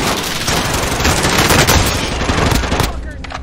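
Rapid bursts of automatic gunfire fill a video game firefight, dense and loud with continuous crackling volleys for several seconds before easing slightly at the end.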